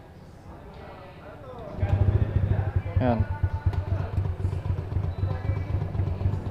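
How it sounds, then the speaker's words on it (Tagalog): A Honda Click i125 scooter engine idles with a rough, uneven low putter close by, its idle speed dropping, starting partway through, while someone speaks briefly over it. "Tignan nyo nangyayari sa motor ko."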